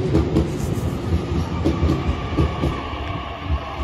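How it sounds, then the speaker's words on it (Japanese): A limited express train rushes past close by with a steady loud roar, rhythmic clickety-clack of wheels over rail joints throughout, and no voices. "これ特急電車"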